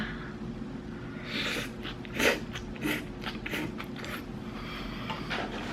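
Someone eats a dinner of onions, oatmeal, tofu, kimchi and seaweed, with a few close, distinct bites and chewing sounds spaced over a quiet room hum.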